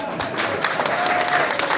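An audience claps loudly at a health care company event, a dense steady patter of many hands filling the room without pause.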